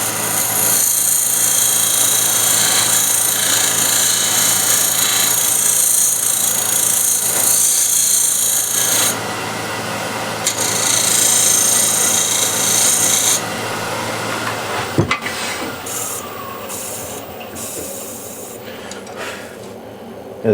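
A skew chisel's bevel side cleans up a scrap-wood turning spinning on a lathe, producing a loud, continuous rasping scrape that holds steady for long stretches, then drops off into quieter intermittent scraping near the end.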